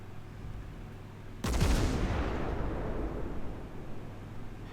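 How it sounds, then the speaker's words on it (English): Warship guns fire at a battleship in the World of Warships naval game: a sudden heavy booming salvo erupts over a steady low rumble of ambience, its rolling crackle and roar decaying slowly over several seconds. "Put some shots into this battleship."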